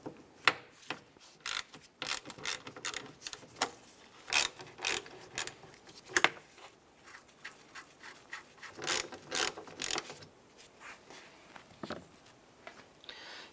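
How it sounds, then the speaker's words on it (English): A 10mm socket on a ratchet loosens a mirror nut on a 2004-2009 Dodge Durango, giving quick bursts of close, crisp clicking with short pauses between strokes. "Using a 10mm socket and ratchet, we're going to go ahead and remove this nut"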